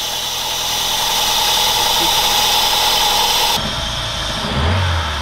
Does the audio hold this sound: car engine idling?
yes